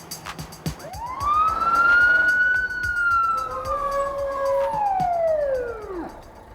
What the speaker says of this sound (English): A fire truck with its sirens screaming